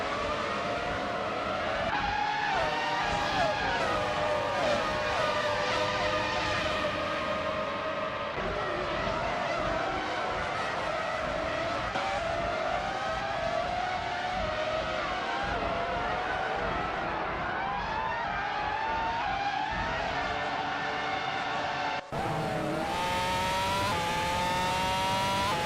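Race cars in a racing video game whine and rev continuously, engines rising and falling in pitch as several vehicles jostle close together, with skidding tyres and a sudden cut to a new engine tone near the end.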